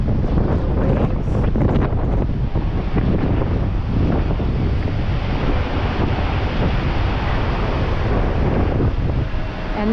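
Rough open sea and strong wind roar continuously from a cruise ship deck, with crashing waves and buffeting wind noise on the microphone throughout, no one speaking.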